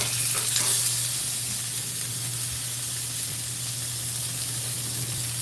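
Fish skin sears in a hot pan with a steady, loud broadband sizzle that runs unbroken throughout, with a low hum underneath and no voices.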